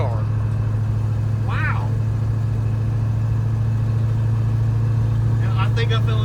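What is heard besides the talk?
1958 Plymouth engine revving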